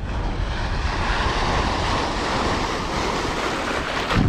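Sea waves break on a rocky beach in Antigua, a loud continuous wash of surf mixed with wind buffeting the microphone, no speech.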